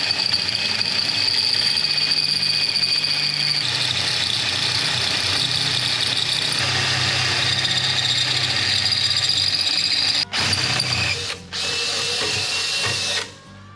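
Metal tubing for a turbo mower's turbine inlet is cut with a power tool, a loud steady high whine lasting many seconds, shifting pitch partway through and ending in a couple of sharp stops, with no talk.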